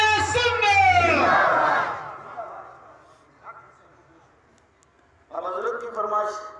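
At a religious gathering of the Jamat E Ahl E Sunnat, a crowd answers a chanted takbir slogan with a loud, shouted group response, then the hall falls mostly quiet before another burst of crowd voices rises near the end.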